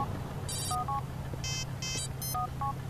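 A phone ringtone from the video game GTA IV plays as a short preview: bright, electronic bleeps in a quick, chirpy pattern over a low hum.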